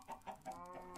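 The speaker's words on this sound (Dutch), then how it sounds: "Ik ga even de kippen eten geven." Chickens in the Minecraft video game give soft, repeated clucks in a quick uneven rhythm, faint and low in level, with no talk over them.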